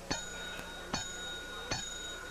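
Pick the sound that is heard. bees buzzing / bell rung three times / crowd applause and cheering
bell rung three times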